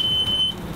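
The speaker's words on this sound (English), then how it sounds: "The alarm system in the building's going off." A building fire alarm system sounds during a residence hall room fire demonstration, a steady high electronic tone with a brief dropout, loud and close, over a low background rumble.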